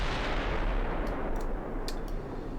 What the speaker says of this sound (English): 15-inch guns, 10 of them.